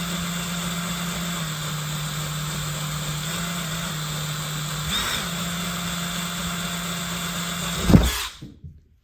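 A power drill runs at a steady, low, even speed, drilling slowly during a model railway street lighting repair, with a brief surge midway before the motor cuts off and winds down.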